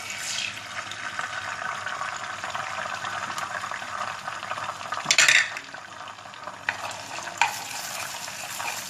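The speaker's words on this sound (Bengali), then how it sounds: "আমার এটা গরম হয়ে গেছে, এখন আমি একটা ডিম দিয়ে দিচ্ছি।" An egg fries in hot oil for Chinese fried rice, a steady bright sizzle with a burst of louder crackling and a few metal clinks of the utensil partway through, no talking.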